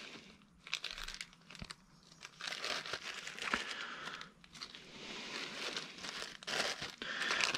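Plastic packaging of an injector seal kit for a 1.6 HDI/TDCi diesel engine crinkles and crackles as it is torn open, in close, irregular rustling bursts with no speech.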